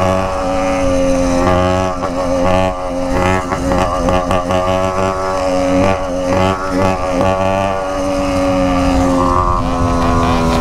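A car engine revs hard through a loud exhaust, a steady rumbling drone with rising and falling pitch that fills the whole stretch.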